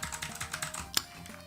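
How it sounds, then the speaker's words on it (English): Fast typing on a computer keyboard, a quick run of close, crisp key clicks with one sharper loud tap near the end. "poor keyboard."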